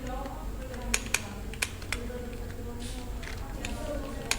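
Typing on a computer keyboard: a few sharp, separate key clicks spread irregularly over a faint background hum, close and fairly quiet.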